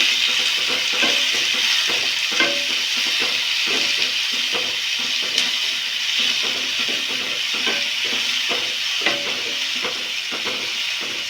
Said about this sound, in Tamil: தக்காளி மல்லித்தலை எல்லாம் சேர்த்துக்குவோம் கொஞ்சம் நேரம் வதங்கட்டும்